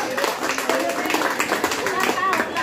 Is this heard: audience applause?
yes